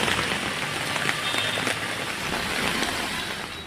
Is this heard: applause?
no